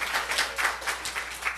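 A church congregation applauds together during a Sunday sermon, a steady wash of many hands clapping at moderate distance with no voices over it.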